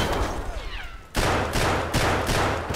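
A grenade goes off in Escape from Tarkov's Factory map, a loud close blast that rolls on, followed by two more sharp bursts of gunfire.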